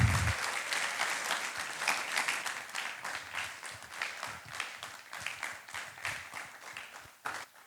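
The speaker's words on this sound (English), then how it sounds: "Can everybody give a big round of applause," Audience applause at an awards presentation during a nature festival, a sustained burst of many hands clapping at moderate distance that carries on steadily before tapering off near the end.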